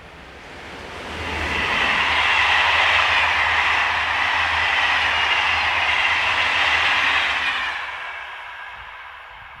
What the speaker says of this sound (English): This is the 1908 from Paris to Bourges, behind 26052.